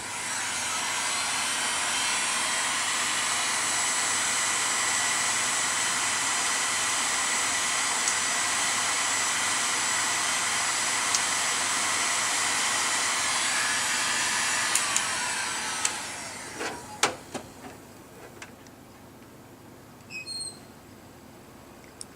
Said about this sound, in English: Simply borrow your wife's hairdryer and heat shrink with it.